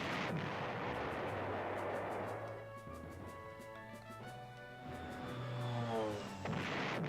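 Aircraft strike on an artillery piece in the PlayStation war strategy game Panzer General, a sustained roaring blast of explosive impact that dips into a tonal rumble and swells again over seven seconds, with no talk.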